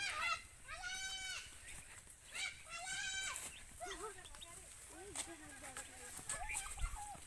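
Goats bleat on a farm in a series of wavering calls at close range, with people talking over and between them.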